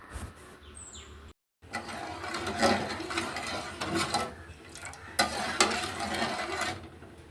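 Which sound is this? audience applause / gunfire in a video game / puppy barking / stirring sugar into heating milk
stirring sugar into heating milk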